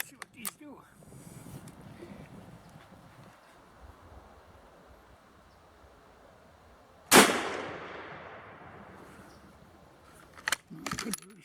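A 7.62x54R rifle fires a single sharp, loud shot with Czech trainer rounds outdoors, following quieter handling and rustling, with metallic clicks of the action afterward.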